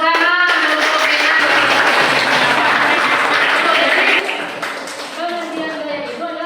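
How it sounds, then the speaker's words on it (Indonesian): Classroom applause for a student named Dina, a dense burst of many hands clapping together for about four seconds that then thins out, with voices mixed in. "tepuk tangan untuk Dina"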